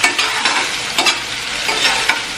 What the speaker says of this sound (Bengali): টমেটোটা মজে যাওয়া অবধি এভাবে নেড়ে চেড়ে নিতে হবে